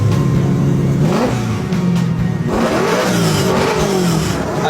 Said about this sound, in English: as the engine starts, let's get a feel for the roar of this beast